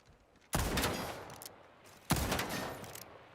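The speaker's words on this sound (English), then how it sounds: "Go ahead, take some shots." Weapon fire in the Highguard shooter, two loud bursts of rapid gunshots about a second and a half apart, each fading into a rolling tail, with no talking.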